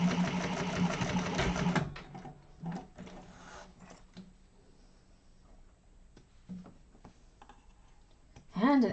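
Sewing machine top stitching a fabric organizer bag, a loud fast rhythmic run of stitching that stops abruptly, followed by quiet handling clicks and a brief whir at the end.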